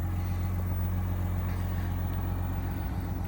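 A 2021 Chevrolet Silverado with a 3.0L Duramax diesel engine idles smoothly and quietly, a steady low hum holding at an even level throughout.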